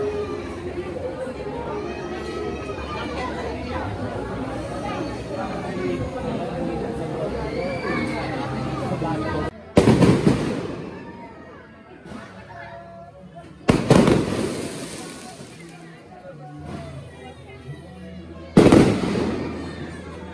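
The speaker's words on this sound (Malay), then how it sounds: "Sama-sama saksikan persembahan bunga api." Fireworks display outside a wedding hall at a jungle-edge villa, with three loud, sharp bursts cracking over a steady murmur of crowd chatter and babble.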